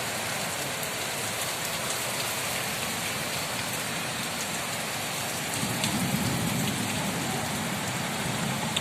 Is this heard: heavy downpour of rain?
yes